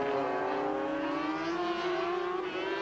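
Sidecar racing outfits at Donington in 1988 scream past with high, whining two-stroke engine notes that rise and overlap, loud and sustained throughout.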